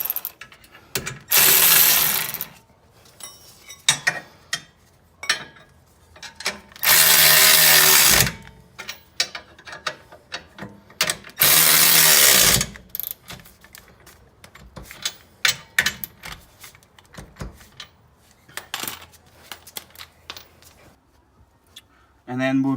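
Ratchet wrench tightening coilover nuts on a Subaru WRX STI, heard as bursts of rapid clicking that repeat many times at close range, separated by short pauses and scattered mechanical taps.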